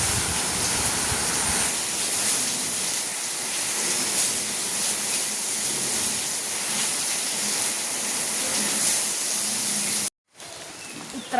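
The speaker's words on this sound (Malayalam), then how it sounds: "ഉത്രാടായിട്ട് നല്ല മഴ" Heavy rain pours down in a steady, dense roar close by on a festival day, continuing for about ten seconds before a short break and resuming.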